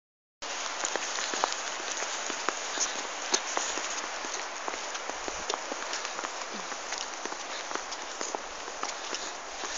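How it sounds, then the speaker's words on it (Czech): Heavy, steady rain falls at night near Voznice below the Brdy hills, a dense broadband patter with scattered louder drops, constant and close throughout after a brief silent start. "neustále leje a leje"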